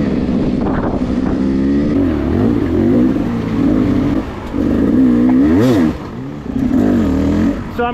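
Adam's dirt bike engine running rough while blowing clouds of smoke, a near, loud, uneven motor note with wavering revs and a few short dips and surges, no talking over it.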